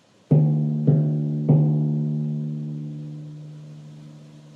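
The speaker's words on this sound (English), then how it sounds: "so we strike the drum head with a mallet" Three deep timpani strokes in quick succession, each a booming resonant note that rings on and slowly fades.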